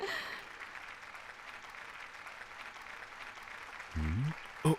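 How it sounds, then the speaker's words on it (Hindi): Faint, even applause from an anime audience welcoming a professor, a soft crowd patter continuing for several seconds with a brief voice at the end. "प्रोफेसर योके का तालियों के साथ स्वागत करें।"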